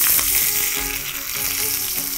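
Green chillies sizzle loudly in hot oil for a tempering, a dense, steady hiss of frying with small crackles throughout, close up and without talk.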